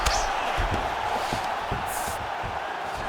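A virtual arena crowd in EA Sports UFC 5 roars steadily through a fight, a continuous loud wash of cheering with a few dull thuds underneath.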